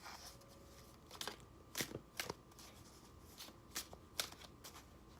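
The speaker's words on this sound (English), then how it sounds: "give it a quick shuffle like this" Tarot cards are given a quick hand shuffle, producing a run of short, crisp riffling bursts at an uneven pace, fairly quiet against a soft background hiss.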